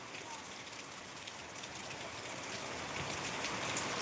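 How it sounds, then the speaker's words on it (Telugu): Heavy rain pours in a steady, even hiss of drops on surfaces, constant and moderately distant, with no other sounds standing out. "ప్రస్తుతానికైతే మంచి వర్షం కురుస్తుంది"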